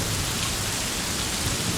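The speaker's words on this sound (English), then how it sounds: "More hail. It's still about pea size." Pea-sized hail falls during a severe storm, making a dense, steady hiss of impacts that fills the whole moment loudly and without pause.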